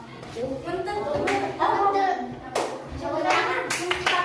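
Primary school children clapping their hands during a classroom game, several short bursts of claps in quick succession amid a teacher's talk and children's voices.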